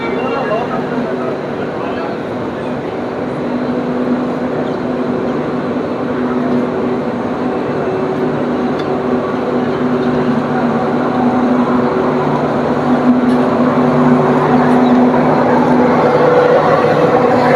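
The Bengaluru to Shivamogga JanShatabdi Express runs after leaving Yesvantpur Junction, a steady loud rumble and drone of the moving train carrying on without a break.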